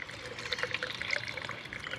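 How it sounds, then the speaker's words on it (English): Water trickles and drips steadily from a leaking windshield washer fill hose on a BMW E90 325xi, a close, continuous light splashing with no talking. "So the fill hose is actually leaking, so I think that's going to have to get replaced. Well, that's still dripping"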